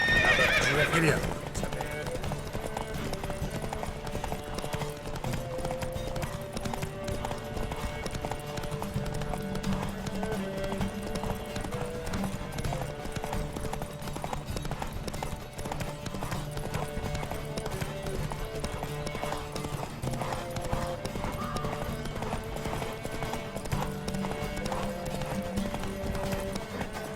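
Galloping horses pound out rapid, continuous hoofbeats through a race in The Witcher 3, with occasional neighs over a steady, dense rumble and voices speaking now and then.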